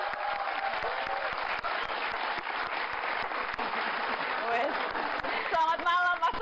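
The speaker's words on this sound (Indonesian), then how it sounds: "tepuk tangan dong ayah ASI" Studio audience applause greets a guest on an Indonesian evening talk show, a dense, steady clapping wash that holds for several seconds before a voice speaks over the close.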